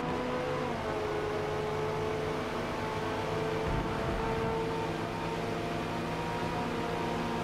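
A race car in Forza Motorsport holds a steady, droning engine whine with sustained tones throughout, shifting slightly in pitch midway as it accelerates, with no voices.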